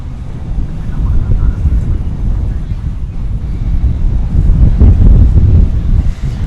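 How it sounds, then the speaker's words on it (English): Strong wind buffets a microphone outdoors at DFW airport at night, a loud, continuous low rumble that gusts stronger toward the end. "Feels like we're getting some winds here as well"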